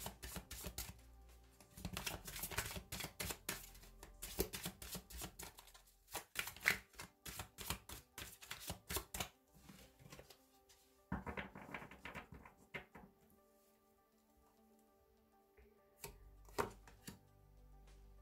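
Tarot cards are handled and drawn up close, giving crisp taps, flicks and shuffling bursts separated by short quiet pauses, with no talking.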